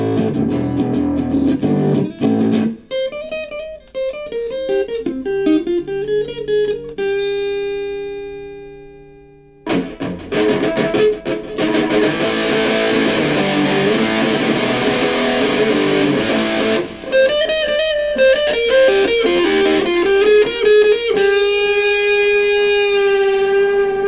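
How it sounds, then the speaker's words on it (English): An electronic sequencer plays through a small guitar amp with built-in gain, reverb, EQ and delay: first clean, tonal melodic notes, then a loud, distorted, echoing version, followed by a return to cleaner, reverberant lines, with no speech. "Here's a guitar clean versus effects."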